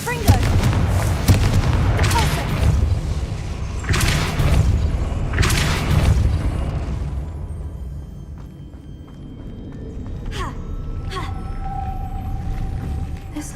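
Confringo blasting spell explosions in the Hogwarts Legacy video game: several loud booming bursts in quick succession during the first six seconds, then a quieter stretch with a couple of sharp cracks and a faint tone.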